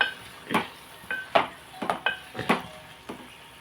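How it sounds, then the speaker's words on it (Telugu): Spoon stirring eggplant and green chilli curry in a pan, tossing it up and down: a series of sharp, separate scraping clinks about every half second, close and fairly quiet, with no talk. "ఇప్పుడు మనం ఒకసారి ఇలా పైకి కిందకి కలిపేసుకుని"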